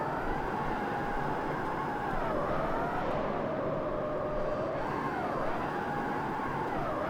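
A Tesla converted into a drift car with a welded differential and sports tires accelerates hard, its steady electric whine rising and dipping in pitch over continuous road and wind roar, close and loud throughout.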